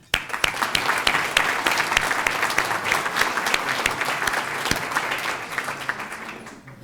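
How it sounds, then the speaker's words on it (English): An audience claps for two people stepping down from council roles, a sharp start into dense, lively applause with distinct individual claps standing out, carrying on for several seconds before thinning away. "I'd like a round of applause for them."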